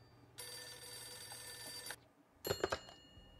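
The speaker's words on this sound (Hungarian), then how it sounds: "Csörg a telefon." A telephone rings in the video game Max Payne, one long electronic ring then a shorter broken burst after a brief pause, fairly faint and heard alone.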